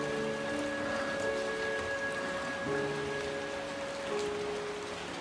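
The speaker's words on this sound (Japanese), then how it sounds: "束の間の通り雨" A short passing rain shower over an old, empty greenhouse: steady, even patter of rain on surfaces throughout, with a faint sustained tone running beneath it and no voices.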